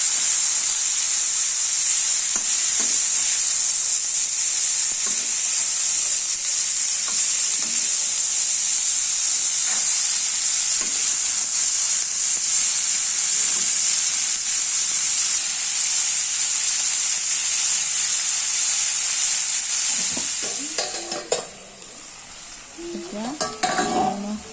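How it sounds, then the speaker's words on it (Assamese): Food fries in a pan, a loud, constant hissing sizzle close up with occasional stirring scrapes; the sizzle drops away near the end as clattering stirs take over. "অকণমান আন্দাজ মতে লৰাই লৈ ভাজি দিব"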